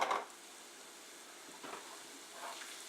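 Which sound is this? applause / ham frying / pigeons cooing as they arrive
ham frying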